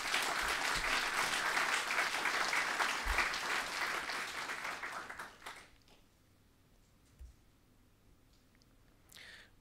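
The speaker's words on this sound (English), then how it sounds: "So please give David an applause." A conference audience at DrupalCon Prague claps in a full, sustained round of applause for about five seconds, then it fades out to near quiet with a few stray sounds.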